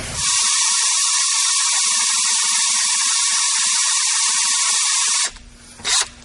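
A high-pitched electric drill whines steadily and loudly for about five seconds while tapping threads in metal with cutting fluid, then cuts off abruptly, leaving brief rustling and a clunk.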